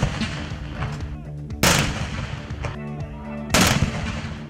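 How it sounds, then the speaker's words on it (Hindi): A Pakistan Army 21-gun artillery salute on Independence Day at the Sports Complex parade ground in Islamabad. Two loud, booming cannon blasts about two seconds apart, each followed by long rumbling echoes. "इस्लामाबाद के स्पोर्ट्स कॉम्प्लेक्स परेड ग्राउंड में 21 तोपों की सलामी दी गई।"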